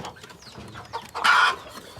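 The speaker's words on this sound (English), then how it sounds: "It's what most people call black roosters." A black gamefowl rooster gives a short, sharp cluck, one brief loud call over quiet farmyard background.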